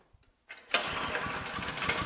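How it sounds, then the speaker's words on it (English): A Craftsman 24-inch snow blower engine is pull-started on choke. A few faint rope tugs lead into a sudden catch, then a steady, fairly loud mid-pitched running clatter. "Now I'm going to go ahead and give the engine a pull."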